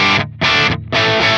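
Heavily distorted electric guitar through an Atomic Amplifire's Kornfield amp model at stock settings with the matched cabinet, chugging three loud palm-muted bursts separated by abrupt silences, close and aggressive.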